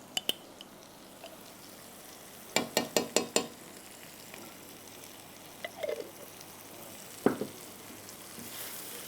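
Ginger garlic paste with chili powder and masala fries quietly in a pan for a qorma pulao, giving a faint, low sizzle with a few sharp clinks and taps of a spoon against the pan.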